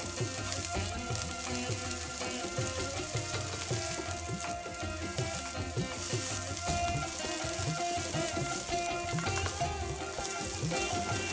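Chopped onions drop into hot coconut oil in a cooking pot, giving a steady, dense sizzle and frying crackle that runs close and continuous throughout, with no talking.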